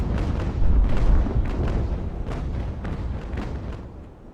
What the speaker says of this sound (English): Gonna take a volley right here.